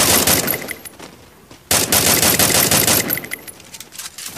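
Rapid automatic gunfire in the battle-royale game Free Fire, loud dense bursts with a short pause, then resuming in a fast rattling stream.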